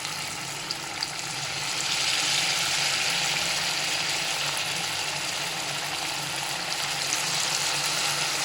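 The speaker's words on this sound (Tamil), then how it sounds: "இப்போ ஒரு போண்டாவை போட்டு எடுத்துக்கலாம்." Cabbage and onion bonda with green chilli frying in hot oil, a continuous loud hissing sizzle that swells after the first couple of seconds and holds steady, close and alone.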